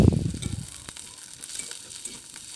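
Chopped green chilies and crushed garlic sizzle in hot oil with frying onions, an opening loud burst of crackling that settles into a steady close sizzle with light stirring scrapes.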